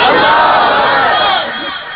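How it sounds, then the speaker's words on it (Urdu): A large crowd at a religious gathering roars the takbir slogan back in unison, a loud massed shout that fills the space and then fades over the last half second. "پیر طریقت سید ضیاء اللہ شاہ صاحب بخاری، نعرہ تکبیر"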